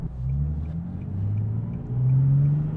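A Nissan 370Z engine accelerating gently at part throttle, a low, steady exhaust rumble with rising drone tones, heard from inside the car at a moderate, even level.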